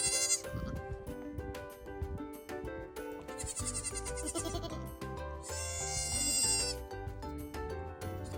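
Homestead goats, including young triplet kids, let out several loud, drawn-out bleats close by, one after another, over a steady backdrop of music.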